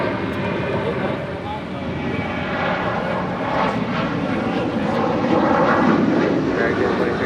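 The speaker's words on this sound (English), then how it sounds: "That is American 2308 departing to Raleigh, Durham on a 737-800" An American Airlines Boeing 737-800 departs Los Angeles International Airport, its jet engines a steady broadband roar that holds loud and even throughout, swelling slightly toward the end, with faint talk beneath.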